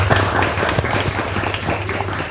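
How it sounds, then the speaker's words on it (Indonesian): Audience applause at a school event, with steady clapping that stays loud and dense throughout, a low hum running underneath and faint voices mixed in. "Boleh minta tepuk tangannya."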